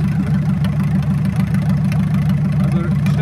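A VW Golf engine idling after its ignition timing was adjusted, a loud steady low rumble with even pulsing, close up, with a voice faintly under it.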